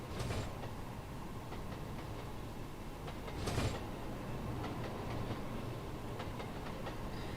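A TGV POS high-speed train runs on track in the Trainz simulator, giving a steady rolling rumble with faint rhythmic rail clicks and one brief louder clack midway.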